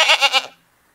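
A single close, loud bleat with a wavering, quavering tone, cut off after about half a second, then quiet.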